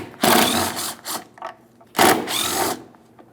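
Power tool whirring as it backs out two 8mm mounting bolts from a tail lamp on a Ford Edge, two distinct close bursts of about half a second to a second each with a brief pause between.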